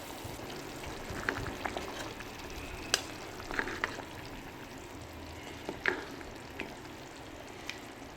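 A pot of mutton keema curry broth bubbles and simmers with a continuous soft hiss, dotted with faint irregular pops and blips, close by and with no talking.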